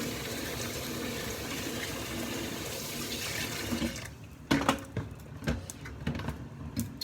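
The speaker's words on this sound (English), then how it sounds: "Rinse our hands off." Kitchen tap water running over hands being rinsed at a sink, a steady close stream that cuts out and gives way to a few scattered splashes and drips.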